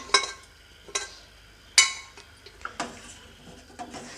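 Cooked lentils and vegetables go into a pot of vegetable sambar, with sharp metallic clinks and clanks of a ladle against the pot spaced irregularly, close and fairly loud in a quiet kitchen.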